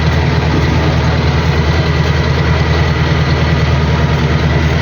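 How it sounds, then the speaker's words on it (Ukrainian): A tractor engine pulls a soybean seeder through a field, a loud, steady, close drone with a deep low throb that runs unbroken the whole time, with no talk. "Їду спереду вже сівником."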